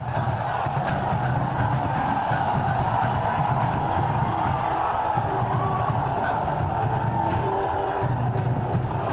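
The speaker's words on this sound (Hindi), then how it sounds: "पवन सिंह के रैली में क्या भीड़ ही भीड़ है" A large crowd at Pawan Singh's political rally in Bihar, a dense, steady roar of many voices with occasional shouts and whoops, loud and unbroken, with vehicle noise blended in.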